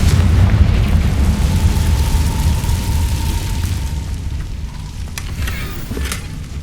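A Confringo blasting spell in the game Hogwarts Legacy goes off with a loud, deep booming explosion that rumbles and slowly decays, followed by a few faint crackles.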